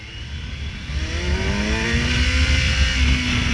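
A 2015 Kawasaki Versys 1000cc motorcycle accelerates hard in first gear, its engine note climbing steadily and loudly up close with wind rush behind it and no voices.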